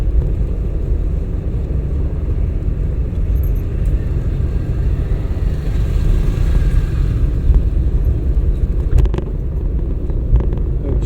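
A car on a driving-school lesson rolls along and eases off speed, giving a steady low road rumble and engine drone from inside the cabin, with no talking.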